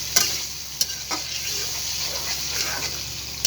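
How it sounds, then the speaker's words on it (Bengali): Spiced beef liver being stirred and fried in a pan: a constant sizzle under a few sharp scrapes and clinks from the spoon. "এবার আমি খুব সুন্দরভাবে একটু কষিয়ে নেব।"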